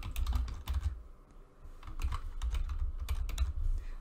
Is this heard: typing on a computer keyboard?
yes